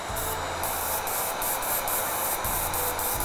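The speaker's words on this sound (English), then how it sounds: "I'm gonna go ahead and do the third one with the heat gun" Heat gun blowing steady hot air over the matte finish on a custom Air Jordan 1 sneaker painted with Angelus paint, a continuous close hiss and whoosh with slight low rumbles, no talking.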